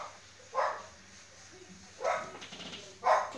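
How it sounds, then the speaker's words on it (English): A dog barks from halfway up a flight of stairs indoors, three single barks spaced about a second apart, moderately distant with quiet room tone between. "He's sitting at the top of the stairs barking again."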